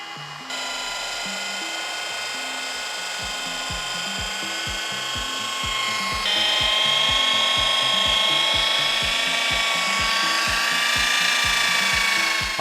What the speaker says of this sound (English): once you're done fully breaking it down with your machine polisher